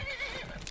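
Short, close whinny from a horse in The Elder Scrolls V: Skyrim on PC, a single brief neigh with hoof clatter underneath.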